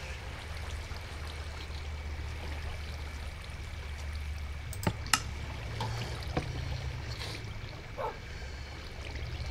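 Steady flowing water in Minecraft, a constant soft rushing stream with a few faint clicks and taps over it, with no voices.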